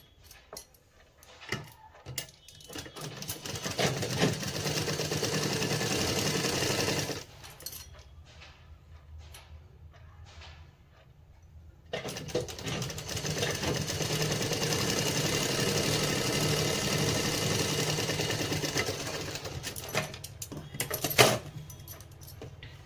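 A sewing machine stitches the front side of a blouse in two long steady runs of rapid mechanical whirring and ticking, separated by a quieter pause with scattered handling clicks, close and moderately loud.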